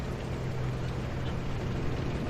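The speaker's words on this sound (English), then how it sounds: "you can hear the engine of this KPZ around here" Engine of an enemy KPZ tank in the War Thunder video game, a steady low rumble heard at a distance and fairly faint, with no voices.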